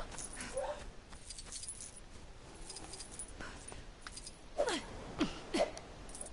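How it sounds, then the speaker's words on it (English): Dog whimpering and yipping in short, high, faint cries scattered over a quiet background, growing a little louder near the end, with light clinks in between. "Dude, like my dog just never shuts up."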